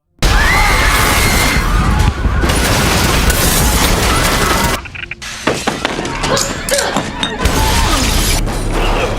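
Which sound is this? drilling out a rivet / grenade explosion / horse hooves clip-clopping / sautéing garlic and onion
grenade explosion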